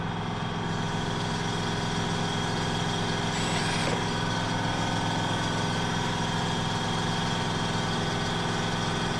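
An air compressor runs in a home workshop with a continuous loud, close motor drone and steady low hum that never lets up, no speech.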